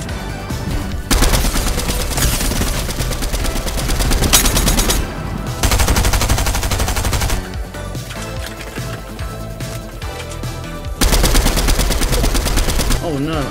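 Rapid automatic gunfire from Fortnite zone wars, loud bursts of repeated shots in several stretches with brief lulls between, game music and effects layered throughout.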